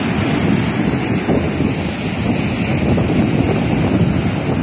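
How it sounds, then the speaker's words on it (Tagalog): Strong wind buffets the microphone in a steady, loud roar, with surf washing underneath near the shore of the Jeddah corniche at night; no voices. "Lakas ng hangin dito ba daw."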